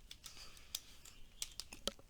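Quiet typing on a computer keyboard, a run of light, irregular key clicks close by with no talk.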